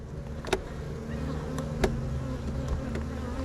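Honeybees buzz steadily around open hives during an inspection, a constant close drone with a few sharp taps and clicks from a hive tool, and no talk.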